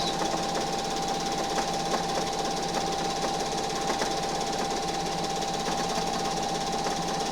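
A sewing machine runs steadily while slowly quilting fabric without stabilizer, a continuous mechanical hum with rapid needle chatter at an even rhythm, close and alone with no talk.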